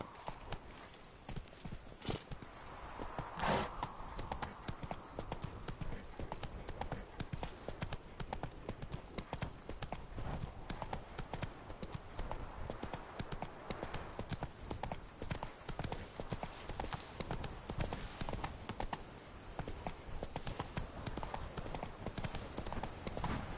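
A horse gallops steadily in The Witcher 3: Blood and Wine, its rhythmic hoofbeats close and loud over a dense outdoor ambience, with a brief sharp burst early on.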